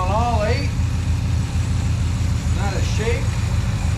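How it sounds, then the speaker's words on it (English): A Binder C112 truck's V8 engine idles steadily just after a vintage Holley two-barrel carburetor rebuild, a low, even rumble running throughout while someone talks over it. "Running on all 8."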